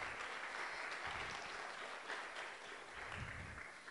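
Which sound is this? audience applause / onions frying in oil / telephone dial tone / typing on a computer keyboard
audience applause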